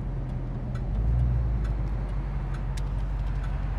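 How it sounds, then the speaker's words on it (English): A 1989 Ford Mustang LX 5.0L V8 convertible idles at a traffic light with a steady, even low rumble, close and continuous, and a faint ticking runs over it. "Here we are at idle. Car's idling real nice."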